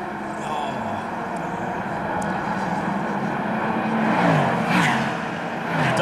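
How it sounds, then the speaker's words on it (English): A Daytona Prototype race car at the Rolex 24 sweeps past with a rising and falling engine roar, heard at moderate distance over steady track ambience. "Daytona prototype sweeping through."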